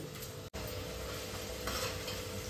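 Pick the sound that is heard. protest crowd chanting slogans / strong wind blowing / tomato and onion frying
tomato and onion frying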